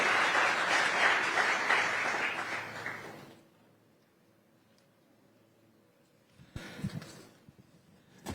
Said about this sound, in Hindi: जोरदार तालियों के साथ अभिनंदन करिए श्री